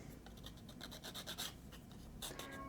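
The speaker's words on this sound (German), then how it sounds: "nehme ich mir ein Schleifpapier und schleife mal die Kanten einmal schön an" Sandpaper rubs along the edges of a gauge 0 model railway waiting shelter: close, dry rasping strokes repeating in a quick, uneven rhythm, with no talking.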